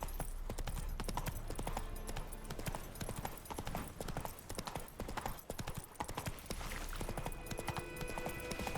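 A horse in the video game The Witcher gallops with fast, rhythmic, loud hoofbeats close by, continuing steadily throughout, with a brief whinny and no talking.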